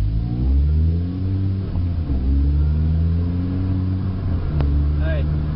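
A manual transmission car pulls away and accelerates, the engine note rising and shifting with gear changes, heard from inside the cabin at steady loudness with speech over it.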